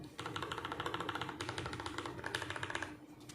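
Rapid, steady typing on a lubed, modded TKL mechanical keyboard with Gateron Milky Brown switches, dense clacking keystrokes close up with no talking.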